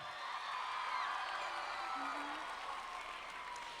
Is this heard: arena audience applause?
yes